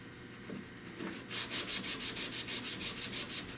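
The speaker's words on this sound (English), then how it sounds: "sand in between these. Gotta scuff them up guys so that paint will stick." Close hand sanding scuffs a car dash pillar panel, first a soft irregular rub, then a steady rhythmic back-and-forth rasping of about a dozen quick strokes.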